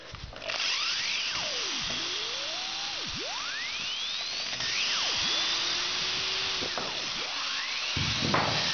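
A power drill unscrews screws from a wooden door frame with a threshold, its motor whining loudly up close and sweeping up and down in pitch as it starts and stops, with no voices.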